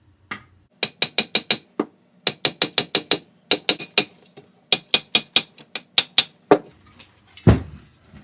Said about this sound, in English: I'm just gonna tap on the heads of the screws to see if it might loosen rust